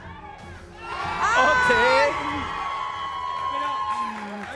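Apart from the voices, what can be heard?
studio audience shouting and cheering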